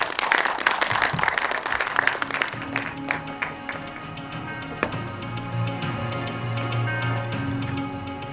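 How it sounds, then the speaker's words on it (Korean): An audience at an annual general meeting of a Korean virtual human industry association applauds in a hall, a burst of scattered clapping that gradually thins out into a few isolated claps and quiet room noise. "박수로 모시겠습니다."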